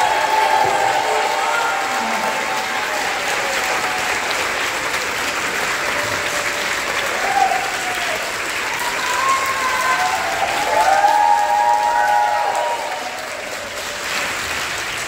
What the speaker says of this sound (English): Please give us a warm South Florida round of applause for activist Emma Collum